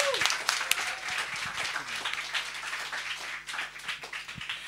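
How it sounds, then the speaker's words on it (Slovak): Lively audience applause at a UX meetup, many hands clapping in a dense crackling patter that holds steady, then begins to thin toward the end, with faint voices underneath. "Ešte jeden velikánsky potlesk pre Janyho."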